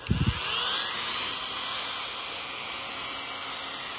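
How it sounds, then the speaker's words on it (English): Dremel rotary tool drilling into the shoulder of a figure, a high steady whine that spins up after a few short clicks and holds close and loud with no talking. "So I'm gonna get my Dremel going."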